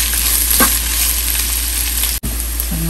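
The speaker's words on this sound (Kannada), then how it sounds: "ಈಗ ಈರುಳ್ಳಿ ಆ್ಯಡ್ ಮಾಡೋಣ. ಇದನ್ನು ಸ್ವಲ್ಪ ಚೆನ್ನಾಗಿ ಕೆಂಪಗಾಗೋ ತನಕ ಹುರ್ಕೊಳ್ಳೋಣ." Chopped onions fry in a pan with a steady, close hiss of sizzling oil, broken once by a brief pause near the end.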